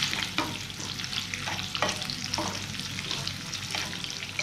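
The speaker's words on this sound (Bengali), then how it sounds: "এবারে ক্যাপসিকামটা দিয়ে দিচ্ছি, পেঁয়াজটাও দিয়ে দিচ্ছি, দিয়ে হালকা নাড়াচাড়া করবো" Capsicum and onion stir-frying in a pan for chilli fish, a continuous sizzle broken by repeated scraping stirs at irregular intervals, close and clear with no voices.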